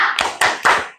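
A classroom of students performs the 'tepuk semangat' clapping routine, three sharp group claps about a quarter second apart, close and loud, fading out after the last one.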